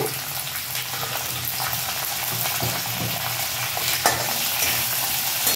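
Garlic and chopped green chilies frying and being stirred in a pan for a Marathi dill greens dish, a steady close sizzle with scraping stir strokes, loud and continuous with no talking.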